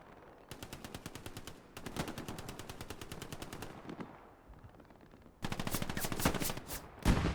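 Bursts of automatic gunfire in the WWII shooter Hell Let Loose on the Tobruk map during a competitive playoff match, with rapid machine-gun rattles in three long strings separated by brief pauses, close and loud with no talk.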